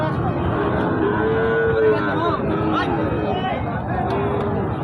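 A black Sahiwal calf moos amid a noisy, crowded cattle market, drawn-out lowing calls rising over constant chatter and background babble.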